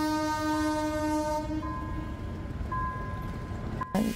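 Passenger train in India rolling along with a long sustained horn blast, steady rumble of cars underneath, heard from nearby and fairly loud with no talking.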